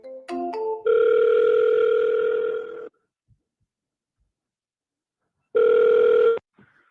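An outgoing phone call to a seller rings out with two long electronic ringback tones separated by a silent gap, preceded by brief dialing beeps, clear and close with no talk.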